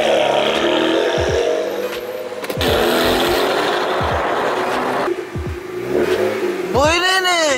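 A tuned BMW 335i of about 400 hp revs hard, its engine rising and falling through several loud sweeps with gear-like breaks, ending in a sharp high whine; people talk faintly in between.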